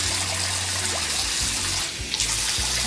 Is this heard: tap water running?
yes